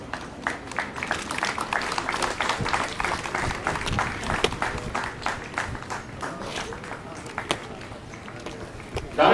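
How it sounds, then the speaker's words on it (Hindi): An audience at a Delhi Police award ceremony applauds, with moderate, uneven clapping from a sizeable crowd and a few sharper individual claps standing out. "कृपया तालियों में कंजूसी ना करें।"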